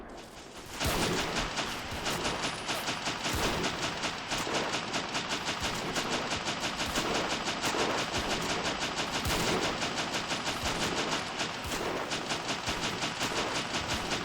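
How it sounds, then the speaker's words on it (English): Machine gun fire in the World War I video game Battle of Empires 1914-1918 at the Battle of the Nek, a dense continuous rattle of rapid shots with mixed gunfire, loud and sustained for over ten seconds. "We'll look at it from this machine gunner's point of view, but we'll let him fire himself."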